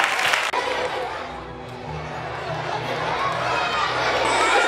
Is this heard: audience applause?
yes